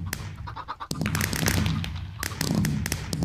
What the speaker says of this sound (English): Look at the pretty fireworks.